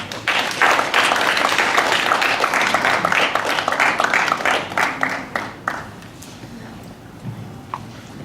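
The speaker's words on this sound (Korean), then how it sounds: "박수로 맞이해 주시기 바랍니다." Audience applause at a Korean Buddhist studies seminar welcoming the moderator, a dense burst of clapping that is loud at first and then thins out and fades over several seconds.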